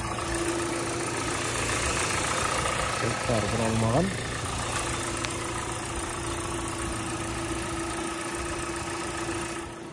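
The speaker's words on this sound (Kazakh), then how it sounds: "Мотор жақсы жұмыс істеп тұр." A 2015 Hyundai Sonata LF with a 2.0-litre petrol engine idles steadily with an even, low hum and a constant whine. Someone speaks briefly nearby over the running motor.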